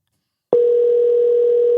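A telephone line tone sounds while calling someone, starting abruptly and holding as one steady, loud, unbroken hum.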